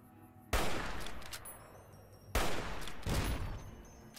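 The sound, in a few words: gunfire in the video game Fallout: New Vegas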